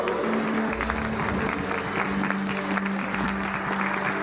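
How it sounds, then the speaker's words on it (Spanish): A church congregation breaks into steady, full applause, a dense, close wash of many hands clapping throughout, with a voice faintly underneath. "Dale un fuerte aplauso."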